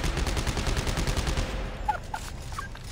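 Rapid gunfire in the sci-fi horror shooter Dead Space 3 multiplayer, a dense, rattling burst of automatic shots for about a second and a half, then fading into scattered sharper reports.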